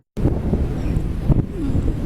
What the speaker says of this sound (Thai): ข้างบนลมพัดเย็นมากแล้วก็เห็นวิวแบบสวยมาก